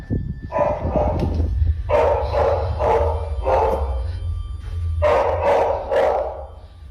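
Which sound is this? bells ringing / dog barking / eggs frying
dog barking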